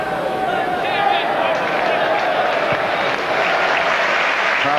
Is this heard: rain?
no